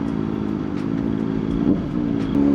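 A Kawasaki ZX-4RR sports motorcycle drones steadily while being ridden on the road near Naga, its engine note holding even with only slight swells.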